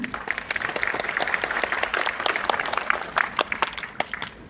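A meditation gathering in Bodh Gaya bursts into applause, with many sharp hand claps layered into a lively, continuous patter at moderate loudness.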